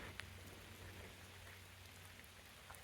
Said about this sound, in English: It has been raining steadily for the first 2 hours of the hike.